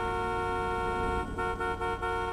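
A car horn blares in a video game, one long steady honk with a couple of brief dips near the end, loud and close.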